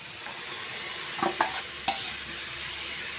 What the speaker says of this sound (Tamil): சேர்த்துட்டு நல்லா கலந்து விட்டுக்கலாம்.